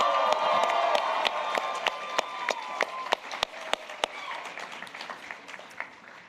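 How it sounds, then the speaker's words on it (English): Audience at an anime convention animation panel cheering and clapping loudly together, with scattered whoops over steady applause and sharp individual claps standing out, gradually thinning toward the end. "Let's hear you cheer."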